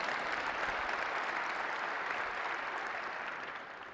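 Audience applause fills a health conference hall, a steady dense clapping from a large crowd that holds evenly before tapering slightly at the end.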